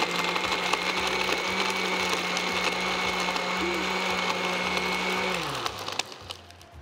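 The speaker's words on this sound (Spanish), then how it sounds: "vamos a poner la licuadora un segundito" Electric blender whirring steadily as it blends strawberries macerated in rum, a loud continuous motor hum that runs for several seconds and then winds down and stops near the end.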